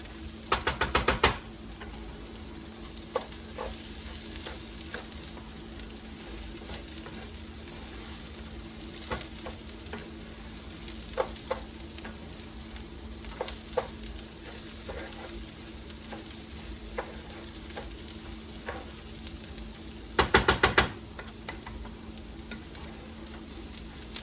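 Soft, steady sizzling as rice toasts in a pan with faint scattered ticks, and two bursts of sharper scraping stirs near the start and end.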